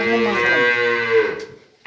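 A dairy cow on a farm in Dinajpur gives one long, loud moo lasting over a second, close by and with no voices over it.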